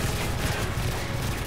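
An unsuppressed automatic weapon fires in Call of Duty: Modern Warfare 3. The shots come in a dense, continuous burst, loud and punchy, with no pauses between them.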